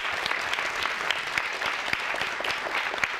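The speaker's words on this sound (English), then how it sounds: "could you all give them a round of applause?" Sustained applause from an audience at a community town hall, steady dense clapping honoring a group of men standing up, with no voices over it.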